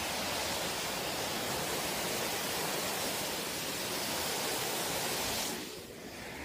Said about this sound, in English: that's called a waterfall.